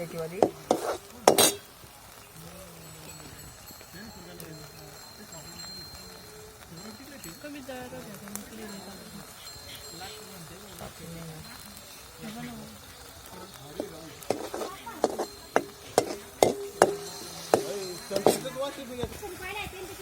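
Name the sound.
sautéing chickpea greens with chili, garlic and cumin tempering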